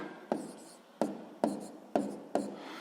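Pen strokes on paper while numbers are written out for column multiplication of decimals, five short, distinct scratches at an uneven pace, close and fairly quiet, with no talking.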